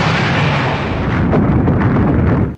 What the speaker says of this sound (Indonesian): yang menghasilkan ledakan yang sangat dahsyat